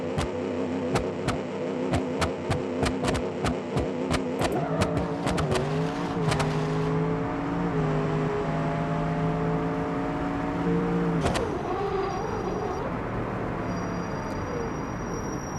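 Drag car in BeamNG.Drive revving on the trans brake around 4,000 RPM: rapid sharp clicks and bangs, then a loud sustained engine drone with pitch shifts, ending in another burst and a steadier idle hum.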